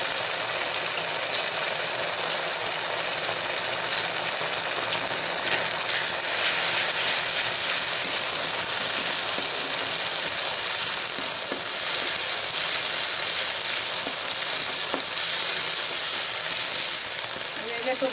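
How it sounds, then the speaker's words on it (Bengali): Ginger and cumin paste fries in hot oil with the browned onions for a Bengali prawn curry, giving a dense, continuous close sizzle with faint stirring underneath. "আদা জিরাটা ভালো করে ভেজে নেবো।"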